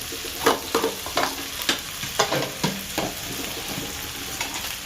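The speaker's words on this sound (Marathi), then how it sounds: "मीठ टाकलेलं कांदा काय थोडा शिजतं लागलं" Onions salted in a pan fry for a dried-shrimp jawla sukat dish, with a steady close sizzle broken by roughly a dozen sharp, uneven scrapes of a spatula stirring them, and no voices.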